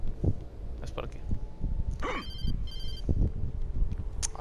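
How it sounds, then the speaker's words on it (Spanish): A telephone in the game Alan Wake rings in short repeated bursts in the middle of the clip, set against low rumbling game ambience and a spoken voice. "A ver, teléfono, contesta."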